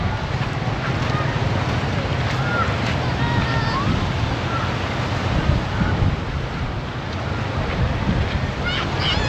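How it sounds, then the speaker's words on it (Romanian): Waves and wind along the beach at Kep, Cambodia, a steady broad wash of surf with wind rumble on the microphone, continuous and fairly loud, with faint voices and birdlike chirps scattered over it. "E voilà plaja!"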